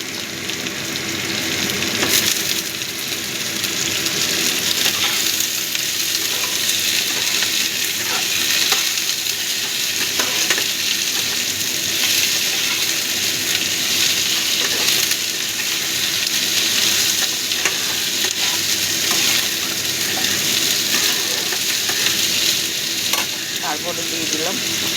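Pumpkin and other vegetables sizzle steadily in a hot pan as a home-style dish cooks, with scraping stirs breaking through the constant frying hiss from start to finish.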